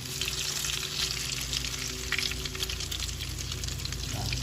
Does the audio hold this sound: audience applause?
no